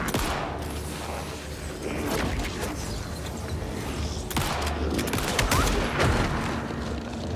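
Dense, continuous bursts of rapid gunfire and booms with mechanical clatter in the video game Alan Wake 2, loud and sustained throughout.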